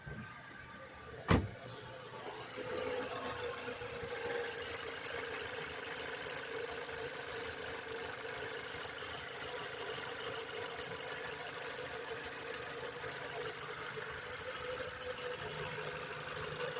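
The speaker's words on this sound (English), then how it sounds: "gonna turn the engine on real quick." A car engine cranks and catches with a sharp burst, then settles into a steady, even idle that runs on alone, in a vehicle suspected of an oil pressure sensor fault.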